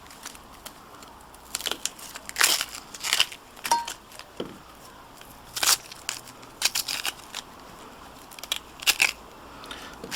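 Halved onions are peeled by hand, with a series of sharp, close papery crackles and snaps in irregular bursts against near silence.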